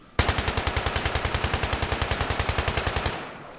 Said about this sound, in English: let's take a look at the recoil if we just shoot without holding down